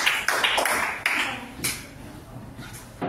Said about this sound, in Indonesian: kita beri tepuk tangan dulu untuk Jasper dan Lisa